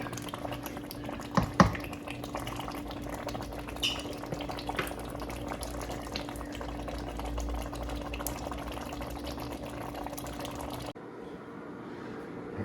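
Bolognese sauce bubbles steadily in a pot on the stove, with a constant low simmer and scattered louder pops. The sound goes on without talk and drops away abruptly near the end.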